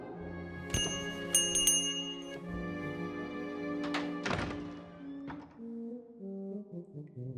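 A bell rings out in the fantasy adventure game The Book of Unwritten Tales 2, a few bright metallic strikes ringing over thudding knocks and sustained tonal game music, fairly clear and close.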